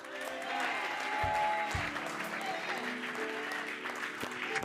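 A church congregation applauding together, a sustained wash of clapping throughout, moderately close, with scattered cheers and voices mixed in and a few dull thumps.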